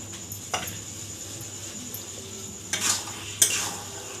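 Coriander leaves get stirred into an Odisha-style fish head dal fry with cabbage, with a soft sizzle underneath and a few scraping spoon-against-pan strokes standing out, especially near the end.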